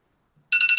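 Mobile phone ringtone starting abruptly, a bright warbling electronic trill heard close and loud for under half a second after near silence.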